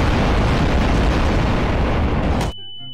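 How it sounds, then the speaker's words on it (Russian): Bombs explode in Garry's Mod as a loud, dense, sustained roar of blasts that cuts off abruptly near the end, leaving a quiet tone. "бомбы прямо на меня падают"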